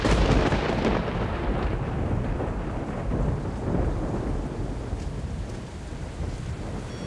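Deep, rumbling thunder rolls on steadily with a dense rushing wash of rain and wind, loud and continuous.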